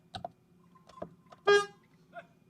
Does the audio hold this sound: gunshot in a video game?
no